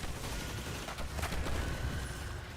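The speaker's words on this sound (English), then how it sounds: "they're screaming and they're shooting bullets" Gunfire from Shriekers in the video game Destiny crackles in a dense, steady barrage of shots and booms, moderately loud and continuous with no voices.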